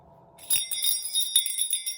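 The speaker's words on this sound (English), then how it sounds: "When I'd shaken the bell," A small bell jingles repeatedly as it is shaken, bright rapid ringing after a soft low hum at the start.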